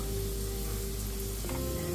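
Potatoes fry gently in a pan for a Bengali mutton curry, giving a dense, constant sizzle that fills the whole short stretch.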